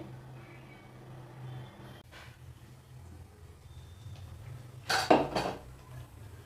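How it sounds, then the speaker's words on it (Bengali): A lid goes onto a pot of boiling moong dal on a gas stove, giving a brief, fairly loud metallic clatter of two or three quick clinks over a steady low hum. "আমি এবার ডালটা ঢেকে দেব"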